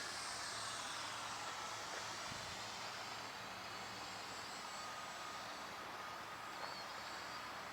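An E-flite Aeroscout with a 50mm electric ducted fan flies at around half throttle, giving a steady, faint whooshing whine that stays even throughout with no voices.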